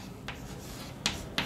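A pen or pencil scratches out a maths equation on paper, with faint rubbing strokes and a few short sharp ticks, quiet and close, no talking.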